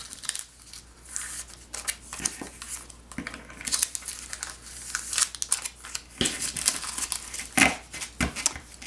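Paper number pieces slide into paper envelopes with soft rustling and crinkling, a run of irregular close scrapes and light handling sounds, with near-silent talk at most.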